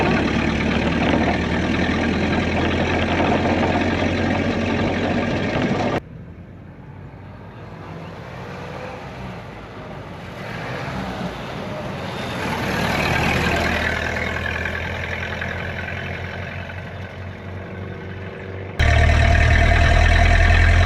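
A 94-year-old Ford Model A, long left rotting and now on new tires with heavy brakes, drives along the road with a steady rumbling engine and road noise, loud and close, with a quieter stretch of wind and cabin sound in the middle.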